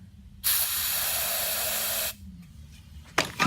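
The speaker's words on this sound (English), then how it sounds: "carb cleaner." Carburetor cleaner sprayed from an aerosol can onto a carburetor being rebuilt for a Mule 2510 utility vehicle, one loud steady hiss lasting under two seconds, then quiet and a couple of brief clanks.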